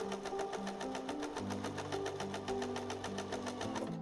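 A sewing machine runs steadily, stitching lavender fabric with a purple top thread and green bobbin, its fast even needle clatter and motor hum continuous and close throughout.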